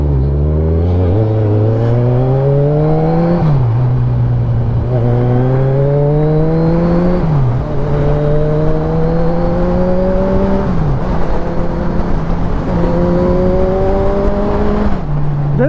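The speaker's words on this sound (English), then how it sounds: "4-cylinder exhaust note is out of this world." Four-cylinder Kawasaki Ninja ZX-10R sport motorcycle exhaust heard while riding, loud and close, rising in pitch through repeated gear pulls with brief dips at each shift, continuous for the whole stretch.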